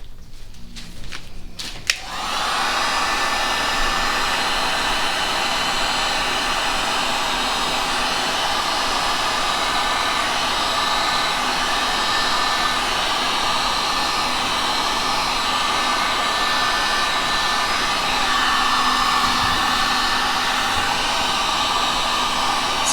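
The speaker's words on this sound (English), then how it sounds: "So I'm going to use my heat gun a little bit for that." A heat gun blows hot air over poured resin in a steady, loud, close whoosh that holds without a break for about twenty seconds after a brief start.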